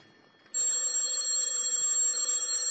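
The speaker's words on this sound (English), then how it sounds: "Telephone's ringing, Danny." A telephone bell starts ringing abruptly after a quiet moment and keeps up a continuous, bright metallic trill, loud and close, in an old-time radio drama.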